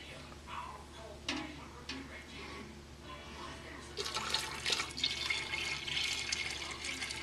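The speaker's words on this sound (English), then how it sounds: "we're going to pour it into the cold water" Hot homemade liquid laundry soap pours into cold water with a soft trickle, then swells into a steady hissing, bubbling rush that continues loudly to the end.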